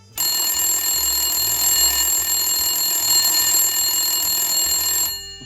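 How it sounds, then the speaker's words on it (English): A telephone rings steadily at night in a quiet house, a continuous bright electronic ringing tone that starts abruptly and runs for about five seconds before stopping, loud and close with no talk. "the phone rings."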